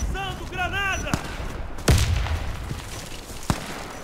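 In the CrossFire shooter game, a sharp bang sounds partway through, followed later by another short crack, after a burst of chirpy game tones at the start, over a busy game background.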